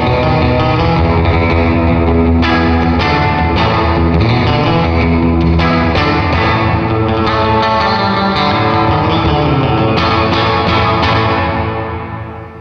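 Electric guitar played through a Fender '63-style surf spring reverb with level and dwell turned up, giving a loud, dense, wet surf tone with splashy drips and long trailing echoes that ring on and fade out at the end.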